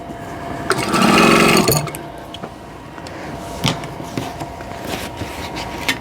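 A sewing machine stitches quilt block units in one loud burst of about a second, then stops, leaving quieter clicks and handling noises nearby.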